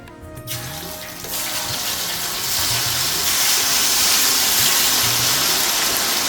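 Fish pieces for fish pickle frying in hot oil, a steady loud sizzling hiss that builds and holds throughout with faint low clatter underneath.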